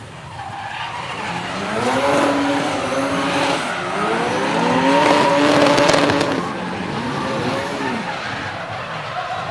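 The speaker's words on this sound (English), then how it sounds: "Because I can hear the VTEC kick in and then you got kicked back." A drift car on a competition track at a Southeast Asia Drift Series event, its engine revving hard with rising and falling pitch sweeps as the VTEC engages, mixed with loud sustained tire skidding and squeal throughout, close and continuous.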